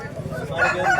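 A loud, close rooster crow rising over a brief bit of background chatter at a poultry market in Bhadradri Kothagudem.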